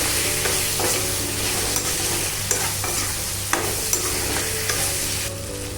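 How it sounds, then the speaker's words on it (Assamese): Broiler chicken pieces stir-fry in a pan with turmeric and salt, giving a loud steady sizzle punctuated by sharp scrapes and knocks of a spoon against the pan. "অলপ দেৰি এনেকৈ লৰাই"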